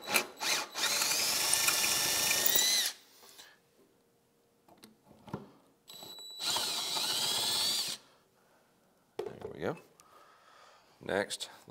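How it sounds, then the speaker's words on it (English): A power drill whines in two loud bursts, each a few seconds long, drilling out damaged threads, with quieter clicks and handling sounds in between. "So let's start by getting it drilled out."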